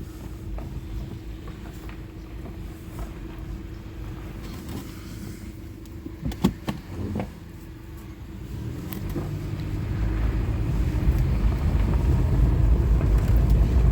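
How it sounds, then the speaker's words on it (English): A Subaru Forester on a road test, with steady low road and engine rumble inside the cabin, building louder toward the end with wind noise and a few brief clunks. "now we're going to go for a real road test"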